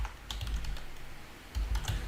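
Computer keyboard typing during Java coding, a quiet run of light, irregular key clicks in short bursts with a pause in the middle.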